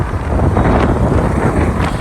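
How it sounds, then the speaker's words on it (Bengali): Wind rushing and buffeting against the microphone of a motorcycle riding through hot Dhaka city streets, a steady, loud, broadband roar with no pauses and no voices. "এই গরম বাতাস।"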